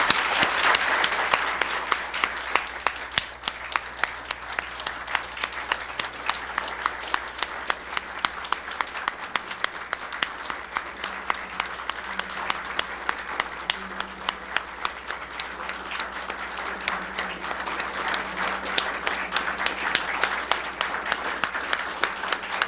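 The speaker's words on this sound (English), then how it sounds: "might we all just give our heartfelt expressions of gratitude through our applause to Charles Hartshorne." An audience at a lecture honoring Charles Hartshorne claps steadily for over twenty seconds, a sustained, even wash of applause from a sizable crowd indoors.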